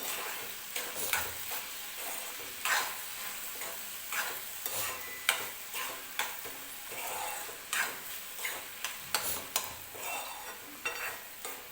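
A spoon mixes masoor dal and onion with salt in a pan, making repeated scraping strokes and light metallic clinks over a steady background sizzle.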